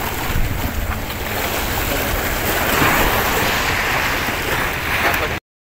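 Waves wash against a breakwater as ships pass by, a steady rushing surge of water with wind buffeting the microphone throughout and no clear voices.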